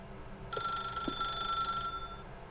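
A telephone in The Stanley Parable: Ultra Deluxe rings with a bright, buzzing bell tone for about a second and a half, moderately loud over a low, steady background hum.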